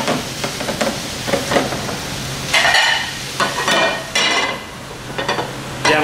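Shrimp sizzle and fry in a pan on an induction burner, a continuous close crackle with scraping stirs and brief bursts of louder spitting as the pan is moved, no talk.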